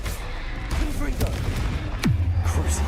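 Confringo spell blasts in Hogwarts Legacy, a few sharp bursts and booms, including a falling whoosh-like impact, heavy low rumble beneath, fairly loud and close with faint voice mixed in.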